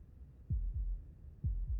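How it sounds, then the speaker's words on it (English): Slow, steady heartbeat in the video game Slay the Princess: two deep, muffled double thumps, close and loud against a quiet low hum, with no other sounds. "That was the sound of a heartbeat, followed by another, and another."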